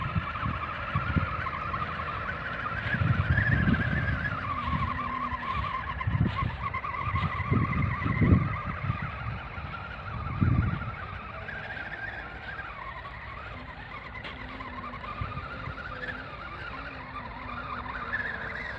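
Homemade RC 6x6 truck driving off-road, a continuous whining electric motor that rises and falls with steady gear noise and rough thumps from the terrain, close by with no voices.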